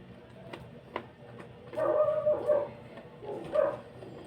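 Shih tzu dogs bark and yip in short bursts, a few faint early yaps followed by louder, clustered barking near the middle and end, with no talking.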